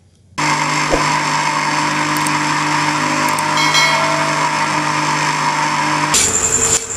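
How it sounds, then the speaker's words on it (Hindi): A kitchen mixer grinder grinds small pieces of bread into breadcrumbs. Its motor starts abruptly with a loud, steady whine that runs for about six seconds, then its tone changes near the end. No one speaks. "इसे ग्राइंडर में डालेंगे और ग्राइंड करेंगे।"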